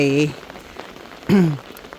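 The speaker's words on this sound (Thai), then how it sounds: "ฝนตกน้ำลงมา" Heavy rain falls steadily outdoors during a snail-gathering trip in wet fields, a constant wash of drops beneath two short bursts of voices.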